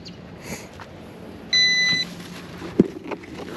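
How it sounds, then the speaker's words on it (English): A Veeniix V11 Air drone gives one clear electronic beep, about half a second long, to confirm it has connected to GPS, over faint background noise followed by a few small handling knocks. "That second beep means it connected to the GPS."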